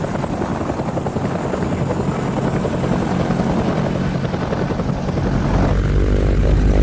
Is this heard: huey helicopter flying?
yes